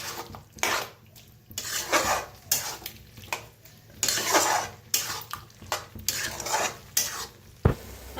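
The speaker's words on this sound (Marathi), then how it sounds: "छान मिक्स करून भाजूया." Spice masala being stirred and dry-roasted in a pan, with repeated scraping and clinking of a spoon against metal in uneven bursts, close and fairly loud, a faint sizzle underneath and one sharp clank near the end.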